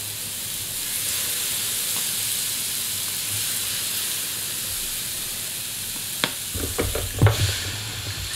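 Waffle batter sizzles in a hot, lightly oiled waffle iron as speculoos waffles start cooking, a steady close frying hiss with a few sharper crackles and bursts of steam near the end.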